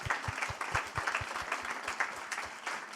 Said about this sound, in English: give that fabulous commentator a big round of applause